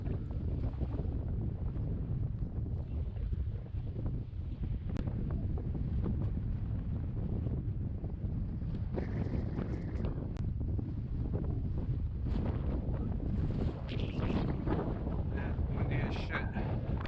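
Strong wind gusting across a Long Island beach during hurricane swells, roaring steadily and loud into the microphone with low rumble from surf beneath, continuous throughout.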